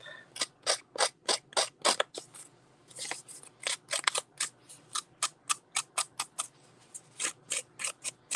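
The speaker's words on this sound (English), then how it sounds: "you can take the edge of your scissors and rough that up" Repeated quick scraping strokes of a scissors edge roughing up paper, a steady series of sharp rasping scratches with short gaps, close and fairly quiet, no voices.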